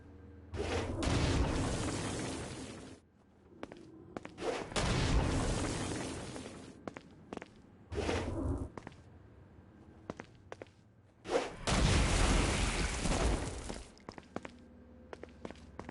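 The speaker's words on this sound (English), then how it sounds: "A blast will also take down the shield of a Dark Insider, leaving it vulnerable to gunfire." Gunfire and explosive blasts in Saints Row: Gat out of Hell come in several loud, dense bursts a few seconds long, separated by quieter gaps with short isolated shots.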